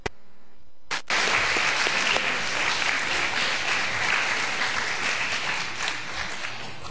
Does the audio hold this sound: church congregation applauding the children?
yes